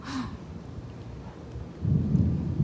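Thunder rumbles through a lightning storm at the beach, a low continuous roll that swells louder near the end, with steady rain-like noise underneath.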